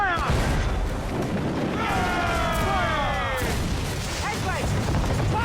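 Ship cannons firing in Assassin's Creed IV during a naval battle, heavy booms and crashes rolling under shouted commands and crew voices, with whistling tones overhead.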